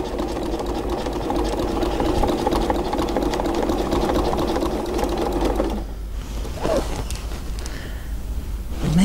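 Domestic sewing machine quilting cream and grey fabric along a quilting ruler, a fast, steady mechanical whirr for several seconds that stops briefly and then restarts, close and loud with no talking.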